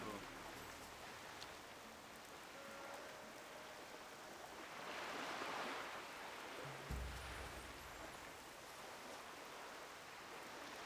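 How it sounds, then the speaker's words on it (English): Rain falls in the Turtle WoW video game near the sea and islands, a steady soft hiss throughout, faint and continuous with a brief low thump in the middle. "It's raining too."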